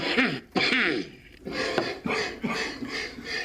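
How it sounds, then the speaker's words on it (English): A man coughs and clears his throat repeatedly, a series of harsh, raspy bursts in an uneven rhythm, close and fairly loud. "That's quite a nasty cough."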